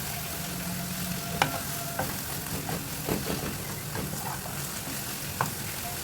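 Meat and onions sautéing in a pan for a Lebanese-style pasta, a steady sizzle with intermittent scraping stir strokes and clicks of a utensil against the pan, close and moderately loud, no talking.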